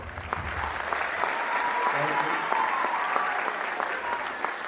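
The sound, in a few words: applause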